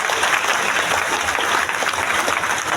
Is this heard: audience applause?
yes